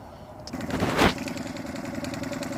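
A Suzuki 2.5 hp outboard motor on an Intex Mariner 4 inflatable boat sputters as it starts, then settles into a steady, close idle with a loud burst near one second.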